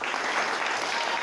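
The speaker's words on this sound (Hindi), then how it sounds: "तालियां बजा रहे।" Audience applause at a music event honouring singers, a steady dense patter of clapping hands lasting the whole short span, fairly loud and close.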